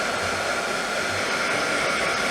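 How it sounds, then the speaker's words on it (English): A hair dryer on a low setting blows steadily over a cup of coffee art, a constant, close, unbroken whoosh with no talking. "So I brought along my wife's hairdryer and I'm just going to help it along a bit."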